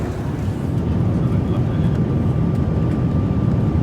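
Steady, loud airplane cabin drone during a Lion Air flight at dinner service, a broad low rumble with a faint hum running throughout.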